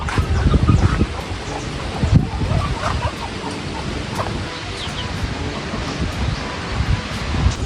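Strong wind rushes through leaves outdoors on a coastal fishing outing, a continuous broad rustling roar with gusts swelling and easing throughout.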